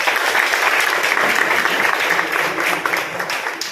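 Audience at a college Independence Day celebration at a paramedical college gives steady, dense applause for several seconds, loud and sustained with no talk over it.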